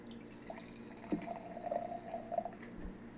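Beer poured into a glass, a faint liquid trickle with a brief splash and dripping that carries on steadily for a few seconds, quiet and close, with no talk.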